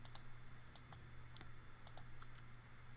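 A computer mouse clicks several times in soft, scattered taps, close but faint, over a steady low electrical hum.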